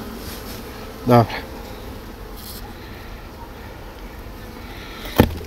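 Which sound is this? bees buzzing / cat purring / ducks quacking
bees buzzing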